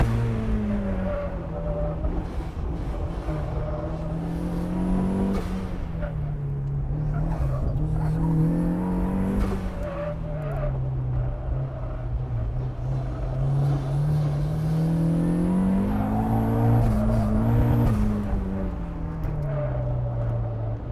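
A turbocharged Mazda Miata drifts around a race track, its engine rising and falling in long revving sweeps with tire noise mixed in, loud and continuous without any talking.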